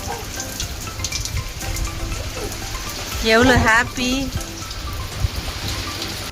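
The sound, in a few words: rain falling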